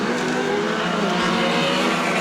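Off-road race cars accelerate away together at the start of a 2018 New Zealand national final, a dense, loud, continuous engine roar with no break.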